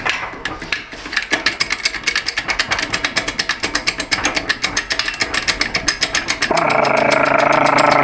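A voice imitates an air-powered jack, producing a loud, close, rapid pulsing rattle like an impact tool that runs steadily and then shifts into a continuous buzzing drone near the end.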